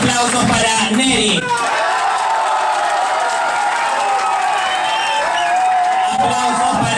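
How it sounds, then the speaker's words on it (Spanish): Studio audience applauding and cheering for a contestant in a televised qualifying round, steady crowd noise with whoops throughout after a brief spoken announcement at the start. "Aplausos para Neri."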